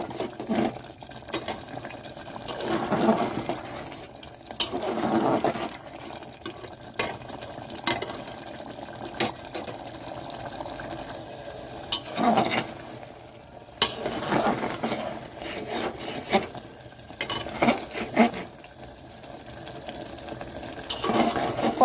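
Mutton liver is stir-fried in a pan, a moderate sizzle under repeated scraping and clinking of a spatula against the pan, coming in uneven bursts with no talking.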